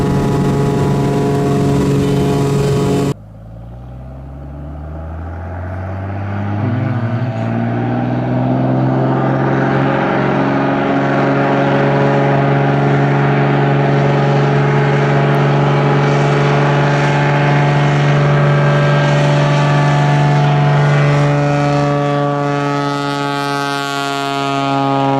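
A small floatplane flying over mountains to land on a lake, its engine droning loud and steady from inside the cabin, the pitch rising and holding as power comes on after an abrupt cut.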